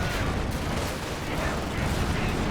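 Gunfire rattles as German Grenadiers attack a Soviet Maxim machine-gun crew in the Company of Heroes 2 video game, dense continuous bursts and booms of battle filling the scene without a break.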